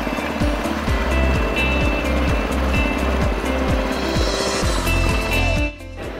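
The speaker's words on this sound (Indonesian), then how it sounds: "sebelum mematikan mesin, saya biarkan dulu mesin berjalan dengan RPM lambat atau tambah beban" A FIRMAN FGW160A portable gasoline welder engine idles at low RPM, a loud, steady chugging with a regular pulsing beat that carries on evenly before dropping away near the end.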